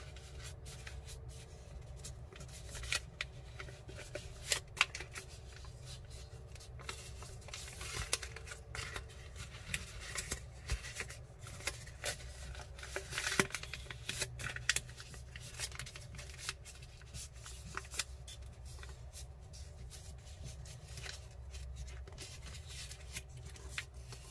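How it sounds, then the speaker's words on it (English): Sheet of paper being pressed flat and creased while folding a T34 Flying Fox paper airplane, steady close rustling and crinkling with scattered sharp crackles and no talking. "Now let's press the paper down."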